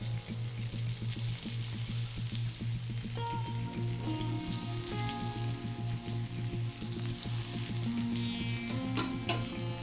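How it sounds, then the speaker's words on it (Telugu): Marinated taro root chops fry in oil in a pan with a steady, close sizzle and crackle, occasional stirring scrapes over the continuous hiss, no talking. "ఇప్పుడు ఏవైతే చాప్స్కి మనం మసాలా పెట్టేసి మ్యారినేట్ చేసుకున్నామో ఆల్మోస్ట్, వీటిని ఆయిల్ మీద వేసేద్దాం,"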